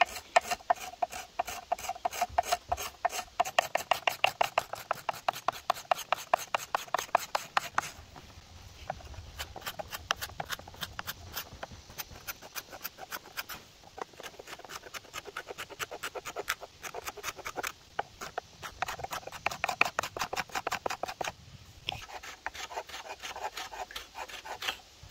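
A rasp files the shoulders of a wooden Mollegabet bow, producing fast rhythmic back-and-forth rasping strokes, close and loud, in bursts with short pauses.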